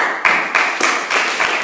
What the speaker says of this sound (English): I once again want to give a big round of applause to Lenny